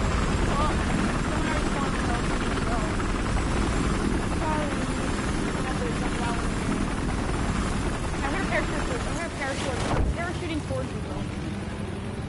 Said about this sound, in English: Oh, no, sorry, I'm spawning on the helicopter.